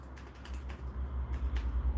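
Keystrokes tapped on a computer keyboard attached to an Amiga A2000, sparse and soft over a steady low electrical hum, with no talk.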